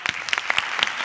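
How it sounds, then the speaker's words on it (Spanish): An audience applauds at a live stand-up comedy show in Spain, a steady patter of many hands clapping, moderately loud and close. "María, aplaudirle a la maestra"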